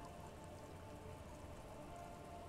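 Rain falls in the video game Disco Elysium, a soft, even, continuous patter of droplets that stays faint and steady, with no voices.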